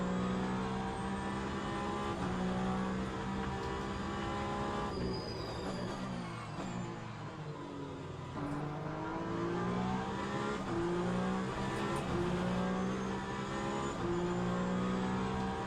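Toyota prototype race car engine droning at high revs down a straight in the Le Mans Ultimate sim at Bahrain, steady loud harmonic whine with gear-shift dips and a passing car mid-way, no talk.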